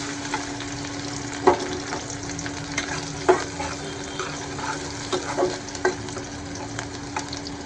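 Onion fries in a pan with garlic and cardamom, making a steady, close sizzle broken by occasional louder stirring scrapes and clinks.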